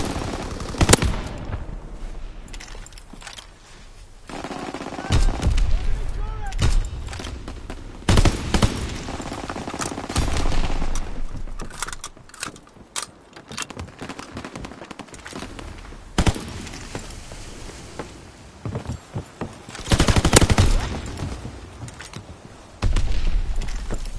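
Anti-aircraft gunfire from a PS4 combat game: rapid bursts of heavy automatic fire, loud and punchy, come in irregular clusters with short pauses between, alongside booms and other battle noise.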